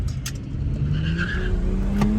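A BMW 340 doing a burnout, with a loud, close, steady engine roar and tire squeal that builds slightly over about two seconds, without talk.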